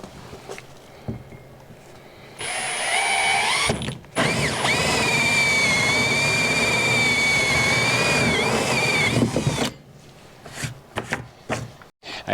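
A power tool grinds and whines as it cleans up the edges of a hole cut in a plastic kayak for a rod holder, a loud sustained buzz lasting several seconds with brief start-stop bursts before and after.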